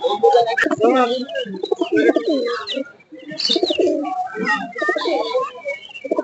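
Pairs of pigeons at the Shimulia bird market coo in low, repeated rolling calls, mixed with people talking nearby throughout.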